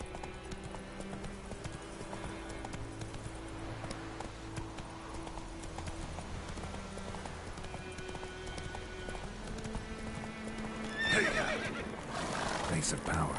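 Roach, a horse in a video game, gallops with steady clip-clopping hooves and lets out whinnying neighs, with game music and occasional voices around the hoofbeats.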